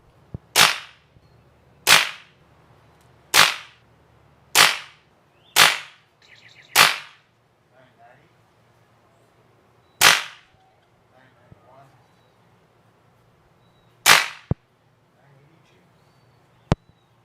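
A Beeman Raider .177 air rifle fires pellets through a chronograph outdoors, eight sharp, loud cracks spaced a second or two apart, then quiet with faint clicks.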